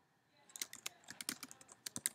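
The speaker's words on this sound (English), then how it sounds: "So let's type a statement." Fingers type on a computer keyboard, a quick, faint and irregular patter of close key clicks with no voices.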